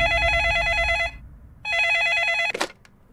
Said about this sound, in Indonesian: Ada telepon.